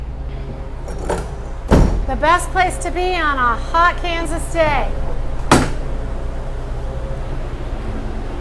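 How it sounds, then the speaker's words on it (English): A walk-in freezer door in a zoo commissary kitchen opens with a sharp thud, and a second heavy clunk follows a few seconds later, while a person talks between them. "So when I open up this door"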